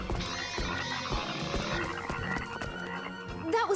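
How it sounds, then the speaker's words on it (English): Cartoon frogs croaking loudly and repeatedly in a dense, overlapping chorus over busy background music, close and continuous. "Froggies!"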